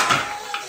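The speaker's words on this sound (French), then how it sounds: "Mettre nos couvercles." Metal lids set onto cooking pots while preparing a turkey thigh stew, giving two quick clinks close by, the first at the start and a lighter one near the end.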